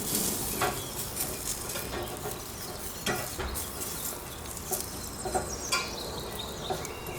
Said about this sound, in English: Move the potatoes around a little and turn the broccoli to ensure that it cooks evenly.